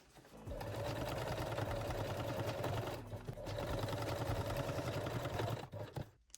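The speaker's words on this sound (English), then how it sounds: "and thread and sew the straps." A sewing machine stitches bralette straps in a steady close whir, running for several seconds, pausing briefly, then running again before stopping.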